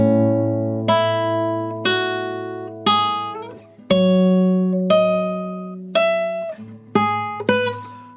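Guitar playing the Assassin's Creed Rogue main theme, a slow sequence of about ten clear plucked notes, each ringing and decaying before the next, with a sustained low open-string drone underneath.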